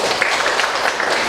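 A school class applauding after a student counseling presentation on bullying, a short, busy patter of many hands clapping at close range.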